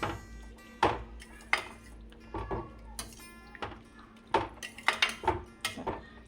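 A pot of olan, the Kerala sadya curry, being stirred with a metal spoon: several sharp scrapes and clinks against the pot at irregular intervals, fairly close, with no talk.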